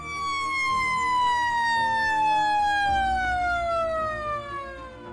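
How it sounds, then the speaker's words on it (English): A long wailing warning siren before a power plant implosion, slowly falling in pitch, loud and steady with rich overtones, sounding out over open air. "we're 5 minutes out for the siren."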